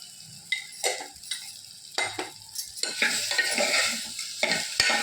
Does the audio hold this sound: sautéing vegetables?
yes